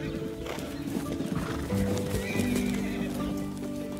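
A horse neighs at a scenic riding spot, a whinny rising over a busy outdoor background with some clip-clop hoof sounds.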